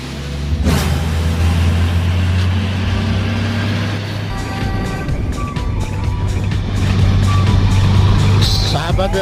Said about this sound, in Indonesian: tampak di depan kita sebuah truk yang sedang menanjak di tikungan Senapit yang cukup berbahaya ini.